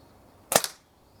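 A single sharp air rifle shot fired at a sighted target, a crisp close crack with a brief metallic ring, set against near silence.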